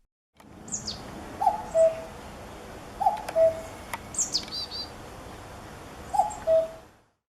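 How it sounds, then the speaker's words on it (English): Common cuckoo giving its two-note cuckoo call three times at a steady spaced rhythm, moderately distant, with faint higher chirps from other birds in the background. "Cuckoo."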